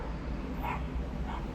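A dog on a city street gives a couple of short, muffled yelping barks, fairly distant and partly buried under steady traffic-like street rumble.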